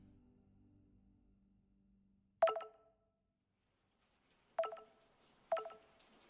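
Three crisp telephone keypad dialing tones in a quiet drama scene, the first after a faint low hum and the last two close together, each short and clear against near silence.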